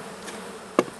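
Honey bees buzzing as they are brushed off a hive frame during an inspection of a queenless hive, a soft continuous hum with one sharp, loud buzz near the end of the brief moment.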